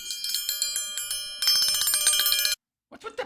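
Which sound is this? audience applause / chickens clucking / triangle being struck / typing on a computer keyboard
triangle being struck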